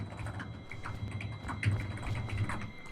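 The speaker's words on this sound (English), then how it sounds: "I hope you can't hear me typing." Soft clicking of a computer keyboard being typed on, irregular quick keystrokes at low level under a faint background hum, with no talking.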